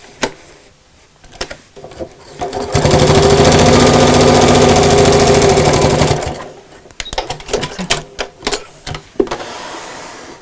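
A close, loud sewing machine runs continuously for a few seconds as it goes back over a seam on a quilted shopping bag. Scattered handling clicks and rustles of fabric come before and after, and there is no speech.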